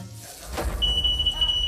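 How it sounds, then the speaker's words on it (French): After a thump, a smoke detector alarm switches on with a steady high-pitched electronic tone and holds, shrill and continuous over low background noise. "on sait au moins que le détecteur de fumée fonctionne"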